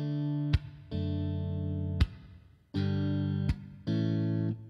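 Strummed guitar chords ring out in several sustained strokes, with quick hammered-on notes between them and short pauses; no voices.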